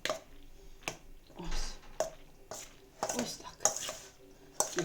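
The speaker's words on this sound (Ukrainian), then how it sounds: "поки я вимішую" Noodles or shell pasta being mixed in a pot with a utensil, sounding as irregular clinks and scrapes against metal with soft squishy stirring in between, close by.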